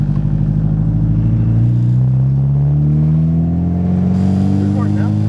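A 1996 Nissan 200SX with a swapped GTiR engine and Garrett 60-1 turbo drives along, its engine note loud and steady and rising in pitch as it accelerates through the gears, heard from inside the car with a voice briefly under it.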